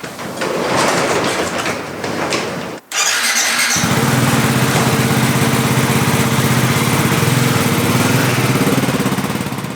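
A Ducati Hypermotard 698 Mono's Super Quattro Mono single-cylinder engine runs steadily and loud, with a brief cutout near three seconds before it settles into an even, throbbing idle that continues to the end.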